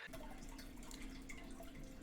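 Steady rush of water running from a tap, continuous and fairly loud up close with a faint splashy texture and no speech over it.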